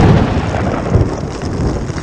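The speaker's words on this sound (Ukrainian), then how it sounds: "Це ж треба така гроза." A thunderstorm rumbles near a tent during a solo cycling tour, a broad, loud, continuous roar of thunder and heavy noise filling the whole moment without a break.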